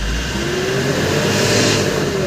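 A Ford Everest engine, recently fitted with a new turbo and suffering low power, being revved to roughly 2,000–3,000 RPM, a loud close drone rising gradually in pitch, steady and continuous.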